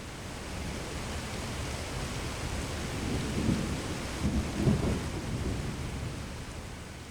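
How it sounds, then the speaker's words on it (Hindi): Heavy rain falls in a steady broadband roar with low rumbling thunder swelling in the middle, continuous and enveloping with no voices. "बारिश हो रही है।"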